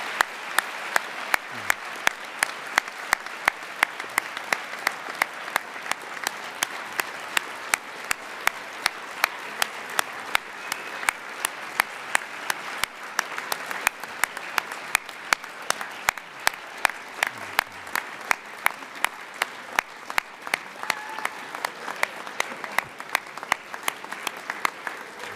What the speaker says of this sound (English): Let's give our speakers one last round of applause.